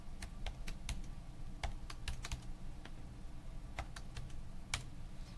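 Irregular clicks of computer keyboard typing, someone entering numbers for a college algebra homework problem, close by and fairly quiet over a steady low background hum, with no talking.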